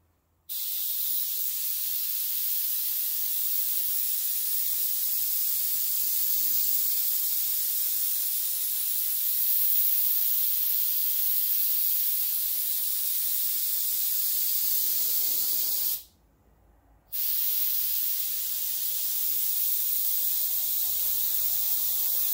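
Steady, loud hiss of a spray gun laying light coats of paint on a custom motorcycle tank, running continuously for most of the time with one brief pause near the end.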